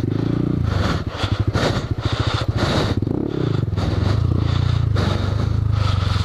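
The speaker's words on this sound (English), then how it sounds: "I'm definitely gonna bottom out my exhaust." A Honda Grom motorcycle idles and rolls through a motocross pit, its exhaust scraping and clattering against the ground in a rapid rattling burst as it bottoms out, with the engine droning steadily nearby.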